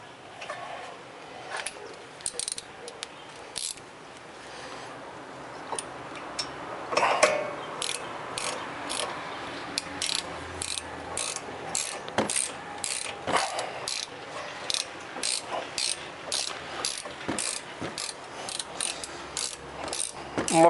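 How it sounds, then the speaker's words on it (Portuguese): A hand ratchet clicks in short repeated bursts while tightening a brake caliper bolt on a Ford Focus Titanium, close and fairly quiet, the pawl ticking in quick sequences across the whole span. "Vamos apertar esse parafuso aqui."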